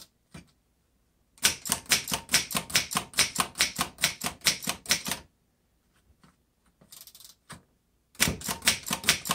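Typing on a 1919 Corona Three vintage typewriter: fast runs of crisp, close key strikes in two bursts separated by a pause with a few scattered clicks and a brief carriage or bell-like rattle.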